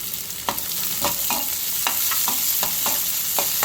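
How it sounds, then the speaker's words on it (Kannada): Onions frying in a pan for chicken gravy, a loud continuous sizzle broken by regular spatula strokes scraping the pan about twice a second, close up, with no voices. "ಈರುಳ್ಳಿ ಹಾಕೋಣ, ಚೆನ್ನಾಗಿ ಫ್ರೈ ಆಗಿದೆ"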